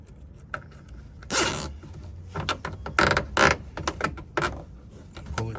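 A plastic zip tie is ratcheted tight around a part of a 5th-generation Ram pickup during a tire-clearance job, giving a series of quick close rasping clicks in short bursts.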